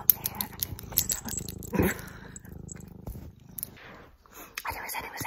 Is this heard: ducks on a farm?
no